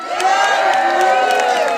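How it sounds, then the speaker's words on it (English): A crowd roars and cheers loudly as sea lions leap through hoops at a zoo show in Blackpool, with high children's whoops riding the sustained din and no pause in the noise. "I want a huge, huge cheer when these girls go through those hoops."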